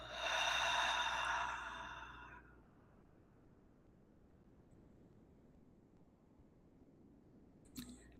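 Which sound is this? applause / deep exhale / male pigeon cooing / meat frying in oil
deep exhale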